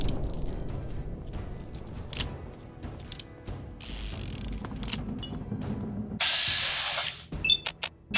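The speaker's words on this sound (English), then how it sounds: "The reload is taking way too long." A weapon is reloaded in Fallout 3 Game of the Year Edition, in the Point Lookout DLC, with a drawn-out sequence of mechanical ratcheting clicks, metallic clacks and rattles, loud and close, and no talking.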